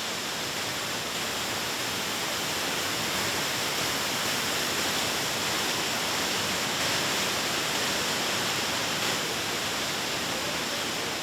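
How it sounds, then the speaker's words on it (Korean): Waterfalls in the Maling River canyon in Guizhou, China, pour down the steep walls in a steady, loud and unbroken roar of rushing water that fills the whole scene without pause. "협곡은 폭포의 향연이다."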